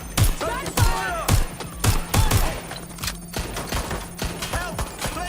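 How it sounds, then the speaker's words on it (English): Gunfire in the video game Watch Dogs Legion, with sharp shots in a loose irregular rhythm, some in quick pairs, mixed with game voices shouting. "Shots fired! Shots fired!"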